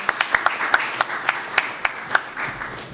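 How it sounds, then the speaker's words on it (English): Small audience at an education justice panel discussion clapping for the panelists, sparse distinct claps from a few people in an uneven rhythm, fairly quiet. "let's just give all of our panelists another round of applause"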